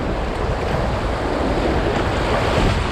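Whitewater rapids on the Russell Fork river rush in a loud, continuous, dense roar close to the microphone, with wind buffeting mixed in.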